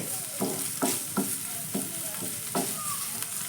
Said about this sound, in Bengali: এবার এই এক সাইডে আমি পনিরগুলো একটু নেড়ে নেব দু তিন সেকেন্ড মতো আমি একটু ভেজে নিচ্ছি এক সাইডে